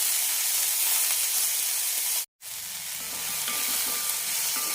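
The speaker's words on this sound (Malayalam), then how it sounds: "ഇനി ഇതിലേക്ക് തക്കാളി ഇടാം തക്കാളി വെന്തുടയുന്നത് വരെ വഴറ്റിയെടുക്കാം" Tomatoes and onion sautéing in a pan, a loud, close, continuous sizzle and hiss that cuts out for a split second midway before resuming, with faint stirring underneath.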